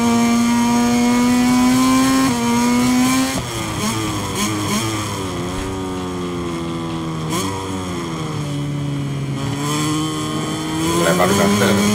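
A KTM racing motorcycle in MotoGP 23 screams at high revs, its pitch dropping in steps as it brakes and downshifts and then climbing again, loud and continuous with faint commentary underneath.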